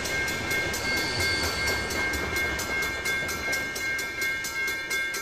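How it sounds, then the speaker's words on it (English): A train rolls past in the Roblox game Rails Unlimited, a loud continuous rumble with steady rhythmic clickety-clack over rail joints and a faint high tone, close by and with no talk. "Nope, this is a real train."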